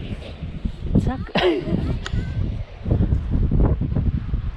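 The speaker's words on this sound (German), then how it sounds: "jetzt kommt gerade wieder richtig Wind" Strong gusty wind of force 5-8 on the North Sea coast roars and buffets the microphone while flying a 2.5 m power kite, rising and falling in rough bursts, with a voice briefly audible in the mix.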